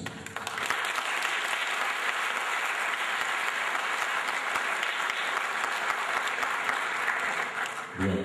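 Audience applause after a poetry reading at a Turkish youth-organization gathering in Kayseri: dense, sustained clapping from a large crowd, steady and loud throughout with a brief dip near the end before picking up again.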